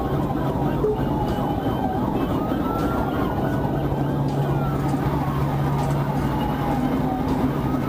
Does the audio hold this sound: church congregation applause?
no